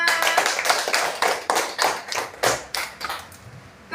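A classroom of pupils clapping together in a steady rhythmic beat, loud and close, the claps repeating evenly for several seconds with no talking.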